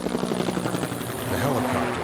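A helicopter flies toward the African coast with a loud, continuous thudding rotor drone that holds steady throughout, while a narrating voice speaks over it.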